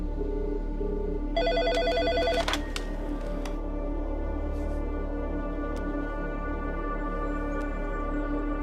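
A telephone rings in one short burst of about a second over a low steady hum, then falls silent, leaving quiet background noise.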